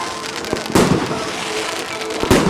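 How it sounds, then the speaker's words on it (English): Fireworks crack and pop at McMullen Park football ground after a Real Bedford match, loud sharp bursts at irregular intervals over a continuous crackling and fizzing haze. "Fireworks going off here at McMullen Park."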